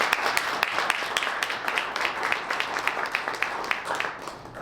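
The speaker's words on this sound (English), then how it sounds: "Let's give him a big round of applause." An audience at a township meeting applauds with steady, close clapping lasting several seconds, many hands sounding in a dense, even patter that tapers slightly at the end.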